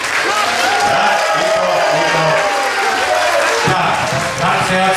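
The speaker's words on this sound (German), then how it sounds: "Gleich nochmal ein paar guten Applaus, nochmal richtig doll." A festival crowd at the Bochum Maiabendfest applauds loudly and continuously, with a voice talking over the clapping.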